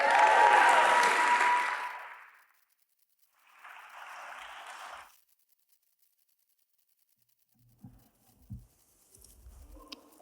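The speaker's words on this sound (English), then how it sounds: "I think I heard more applause the last time" An audience at an awards gala welcomes a presenter with a loud burst of clapping that fades out, then a second, softer round, followed by near silence and a few faint knocks.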